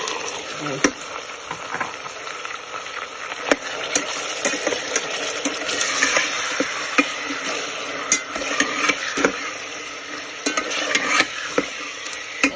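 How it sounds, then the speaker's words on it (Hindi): Meat sizzling in a pan with garlic, ginger, onion and whole garam masala, a steady close frying hiss with scattered crackles and occasional stirring knocks, no voices. "लहसुन अदरक और प्याज और गरम मसाले के साथ गोश्त हमारा फ्राई हो जाएगा।"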